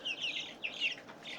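Hybrid and Hubbard chickens cluck and chirp close by in a quick series of short, bright calls, fairly faint and with no talk.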